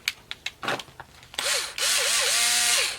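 Ryobi 4-volt cordless drill, a thrift-store find, whirs up after a few handling clicks and knocks, its motor pitch rising and dipping as the trigger is pulsed, then holding a steady close, loud whine.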